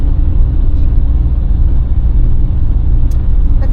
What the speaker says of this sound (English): This is Swedish rush hour.